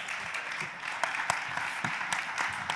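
A studio audience on a French talk show claps to welcome a guest joining the set, a moderately dense patter with a few sharper individual claps standing out, fairly close and without speech on top.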